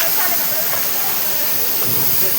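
Small twin waterfalls near the Sreevel Mahadev temple send out a loud, steady broadband rush of falling water that continues without a break for the whole stretch.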